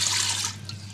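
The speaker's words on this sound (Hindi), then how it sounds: "ये लहसुन और अदरक का पेस्ट है, इसमें हम एक गिलास पानी डालेंगे" Water from a glass poured into garlic-ginger paste in a home kitchen: a brief splashing pour lasting about half a second, then near quiet over a steady low hum.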